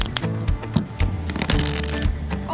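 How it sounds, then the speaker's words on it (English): A deck of Uno cards is shuffled close up with rapid riffling bursts and flaps that repeat in quick succession, loud and continuous. "Shuffling skills, Emily."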